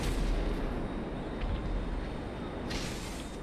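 Rockets fire automatically in the video game GTA 5 as a steady, dense rumble of booms, with a brief hiss-like burst near the end.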